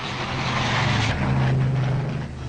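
Propeller aircraft of the 1948 Berlin Air-Lift, military and civil planes such as the RAF York, Halifax and Viking, drone overhead with a steady, loud engine hum that swells slightly as one passes.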